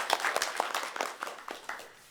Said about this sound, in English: everybody please a nice round of applause for Samantha's wonderful introduction